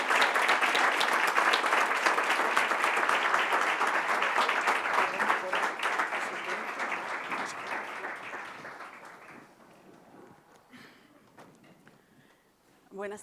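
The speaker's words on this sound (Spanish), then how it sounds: "Os pido, por favor, un fuerte aplauso para nuestros tres ponentes." Strong audience applause for three speakers at a conference on the beginning of life, dense clapping from a large room that slowly fades away over several seconds, with a brief sound near the end.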